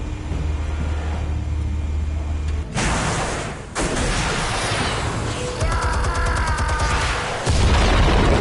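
Explosives go off in Batman: The Telltale Series, heavy booming blasts and crashing debris bursting in after a lower rumble, loud and close, followed by continued roaring clatter and noise with no speech.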